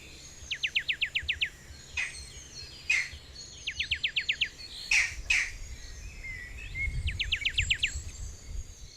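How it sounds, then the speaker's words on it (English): Wild birds in a Jamaican nature reserve sing in repeated rapid trilled bursts with sharper chirps between, fairly close and clear over a soft low background hum. "Here, birds are at rest."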